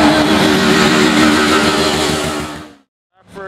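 A Lamborghini SVJ with a Gintani exhaust revs hard and loud for nearly three seconds, popping and crackling as it shoots flames, then cuts to a brief silence before another rev starts.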